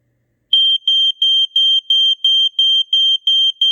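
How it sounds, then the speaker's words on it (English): Probe Model 107 battery-powered smoke alarm in test mode sounds ten loud, shrill, evenly spaced beeps in quick succession, close and alone after a moment of silence. "That is the Probe Model 107 battery-powered smoke alarm."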